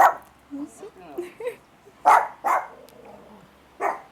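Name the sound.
dogs barking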